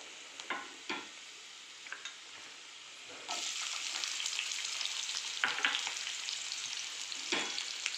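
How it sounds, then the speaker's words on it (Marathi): Chopped onion is added to a pan and fries with a soft sizzle that swells into a louder, steady crackle partway through, broken by a few close stirring scrapes. "आता मी कांदा टाकून घेतो."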